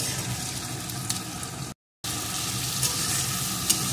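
Spice mixture with chopped tomato and salt sizzles steadily in a pan for a crab mustard curry, a constant close frying hiss with a brief silent break midway and a couple of faint clinks.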